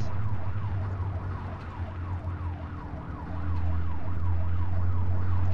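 Police car siren in the video game ARMA, a small Lada patrol car, wailing steadily up and down over a low engine drone, loud and close, growing louder toward the end.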